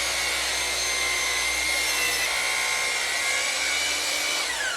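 Miter saw cutting a wooden board for a custom spice rack, a loud sustained whining motor with the blade biting through the wood, steady and close from start to finish.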